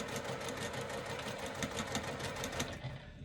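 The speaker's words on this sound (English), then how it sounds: "I just do a few back stitches just to secure my threads" A domestic sewing machine runs a few back stitches on a fabric bag with fusible fleece, giving a rapid, even mechanical whirring and clatter, close and continuous for a few seconds before stopping.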